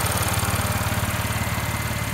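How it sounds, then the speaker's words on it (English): An Audi S4 engine idles while warming up, a steady rhythmic low chug with fast even pulses and a faint whine above, close and alone with no talk. "Engine sounds fine."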